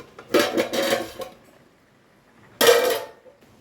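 In a kitchen, a metal lid comes off a pot of roasted-coconut chicken curry, giving two short metallic clanks and scrapes separated by a quiet pause, close and fairly loud.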